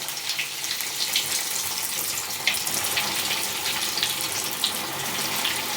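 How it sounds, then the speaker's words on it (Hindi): Fresh green pea snacks fry in hot oil over a low flame, a few pieces at a time, making a steady, bright sizzling hiss that stays close and even with no talking. "एक ही साथ भरेंगे नहीं, बस 3-3 4-4 करके इसे फ्राई करेंगे"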